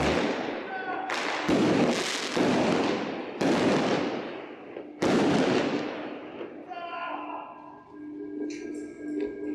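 Fireworks go off at a poolside night show, with a string of heavy booming bursts and crackling tails, then a sparkling fizz and lighter crackle as the display winds down.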